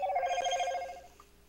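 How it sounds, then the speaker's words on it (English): A phone rings with a bright, warbling electronic trill for about a second before cutting off, close and fairly loud, with no speech over it. "Oh, sorry, that's my phone."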